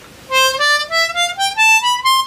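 Blues harmonica played single notes with a puckered-lip embouchure, a clean reedy tone climbing step by step in a short run of about seven sustained notes, close and solo.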